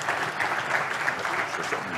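An audience applauds award recipients at a ceremony for a performance trophy, steady close clapping filling the whole span with no pauses.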